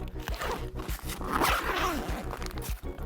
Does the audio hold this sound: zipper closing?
yes